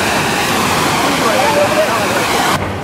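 Rushing water at an outdoor water park, a loud, steady broadband roar like a cascade or pouring flume that continues unbroken, with faint voices blended into the wash.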